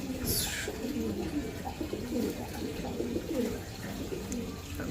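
Pigeons coo steadily inside a large cage at a pigeon farm, their low rounded calls repeating close by in overlapping bursts over a constant background hum.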